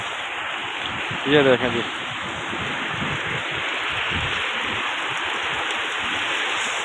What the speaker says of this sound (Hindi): मदीना मुनव्वरा में बारिश बहुत तेज़ हो गई